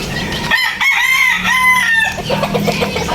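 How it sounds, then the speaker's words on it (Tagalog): A rooster crows loudly and close by in a long drawn-out call, while hens cluck around it. "Ito yung mga manok nila"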